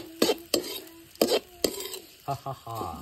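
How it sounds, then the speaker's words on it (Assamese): Food being stirred with a ladle in an iron kadai (wok) for an Assamese Bihu dish, with several sharp scraping, clattering strokes over a light sizzle, close and fairly loud. "এতিয়া আমাৰ মাইকেল কাকাই লাৰি দিব"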